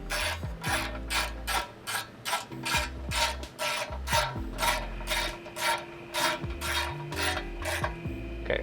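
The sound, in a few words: ratchet tightening transmission pan shield bolts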